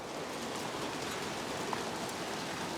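Hail coming down hard outdoors in English weather, a steady, broadband pattering hiss much like heavy rain, even in loudness throughout and with no one speaking.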